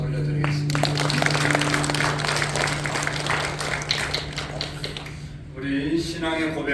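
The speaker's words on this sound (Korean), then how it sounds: "하나님께 영광의 박수 올려드리겠습니다." A church congregation at a Sunday service claps in praise to God, a spread of applause under a sustained organ or keyboard tone, fading out before a voice starts speaking again.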